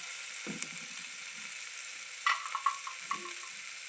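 Spices such as garam masala and coriander powder sizzling in a hot pan while a potato, cabbage and pea curry is cooked, a steady close frying hiss with a few soft stirring clinks.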